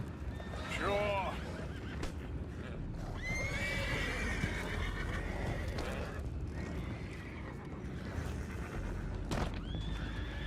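Horses in the Red Dead Redemption 2 video game whinny repeatedly and loudly, with hooves clip-clopping and a constant rumbling game background, and people talking in the scene.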